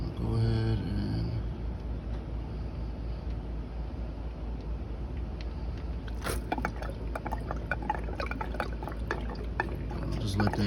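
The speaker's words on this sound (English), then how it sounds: "just let that drain out" Transmission fluid from a Ford Five Hundred draining out of the pan into a container, a steady close trickle and splash that continues throughout with a few sharper clinks partway.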